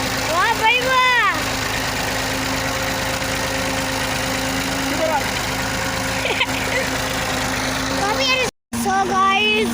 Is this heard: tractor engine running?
yes